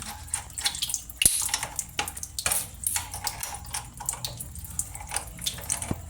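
Water gushes and splashes steadily from an open pipe during an angle valve replacement, with irregular spurts and a few sharp knocks, fairly close and moderately loud, with no voices.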